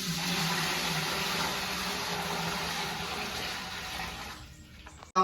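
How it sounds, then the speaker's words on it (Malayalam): A steady, loud gush of water poured from a pot into a copper vessel set over a lit stove for lemon pickle, running continuously for several seconds before stopping abruptly. "നമുക്ക് വെള്ളം ഒഴിച്ചു കൊടുക്കാം."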